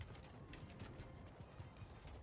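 Horse hooves clip-clopping during a battle in Mount and Blade 2 Bannerlord, a faint steady rhythmic clatter of footfalls under a busy low rumble.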